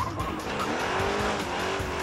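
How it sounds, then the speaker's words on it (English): A Mustang V8 muscle car with a rally bar working extra rear brake calipers roars steadily up close while its tires squeal and slide through a continuous drift. "this Mustang still roars like a muscle car"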